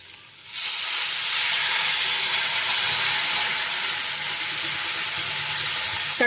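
Water poured into a hot pan of vegetarian drumstick and potato curry, bursting into a loud, sustained hissing sizzle with steam that holds steady close by after a quiet start.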